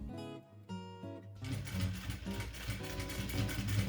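A sewing machine stitches the gusset of an embroidered maternity bag. It starts with a few quiet mechanical ticks, then settles into a steady, soft whirring run of stitching, with no voices.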